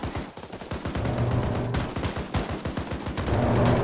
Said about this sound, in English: Hind is strafing it now.